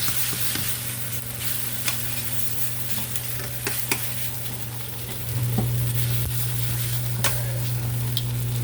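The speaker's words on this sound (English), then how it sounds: "Alright, keep on searing here." Oxtails searing in a pan give a continuous loud sizzle, with scattered sharp pops and crackles and a low steady hum beneath, no voices.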